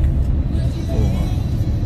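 Traffic rumbles on a road descending through Tambunan in Sabah, many cars queued behind one another, a steady low engine drone heard from inside a vehicle, with a voice talking over it.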